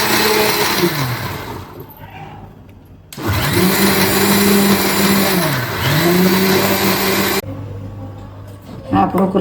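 Electric blender crushing soaked dates, tamarind and jaggery, running loud in two long bursts with a short lull between and a brief pause near the end, its motor pitch dipping and rising under load.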